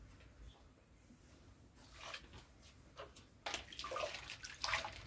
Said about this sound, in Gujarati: આ નળ ચાલુ કરી ને જોઈ જોવું